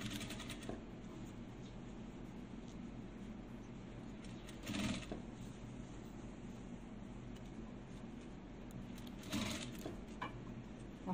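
A sewing machine runs steadily and faintly, stitching gathered ruffles into denim cut from a pair of jeans, with a couple of slightly louder moments partway through and no voices.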